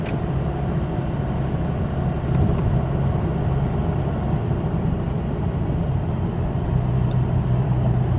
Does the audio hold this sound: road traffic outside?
yes